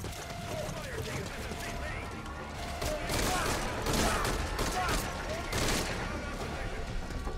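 Gunfire in Metal Gear Solid V: Ground Zeroes comes as several dense, loud bursts and scattered shots over a busy background of game noise, with a voice talking underneath.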